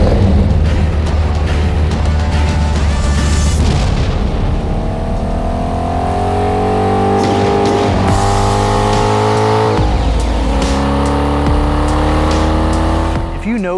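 Saleen S7 twin-turbo supercar engine roaring loudly throughout while driving, with rising and falling revs through gear changes and a brief tire squeal, heard from the passenger seat.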